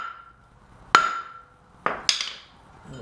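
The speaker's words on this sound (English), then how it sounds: "grab your favorite sledgehammer And you want to hit the rotor, not the hook" Sledgehammer striking a brake rotor to free a wheel hub during a wheel bearing change: three sharp metallic clangs, the first ringing on, the last two close together, near and loud.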